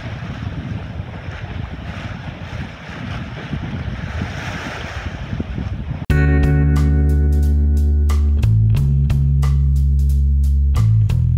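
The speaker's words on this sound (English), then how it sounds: "There is still a lot of wind and I don't know if we can do that tomorrow." Strong wind buffets the microphone while waves wash around a sailboat without a mast, a rough, continuous roar for about six seconds before an abrupt cut to a loud, unrelated tonal passage.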